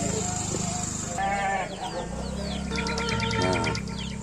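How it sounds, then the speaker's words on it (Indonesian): Goats in pens facing each other at the back of a house in a quiet village bleat repeatedly, the wavering cries close and loud, with chickens clucking nearby and steady background noise. "Ada kandang kambing. Kandang kambing berhadapan. Dan ini kambingnya."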